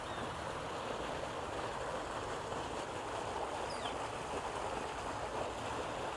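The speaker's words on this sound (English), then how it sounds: "So this must be the start of the waterfall here." Water flowing at the head of a garden waterfall on a farm, a faint, steady broadband rushing and trickling with no voices.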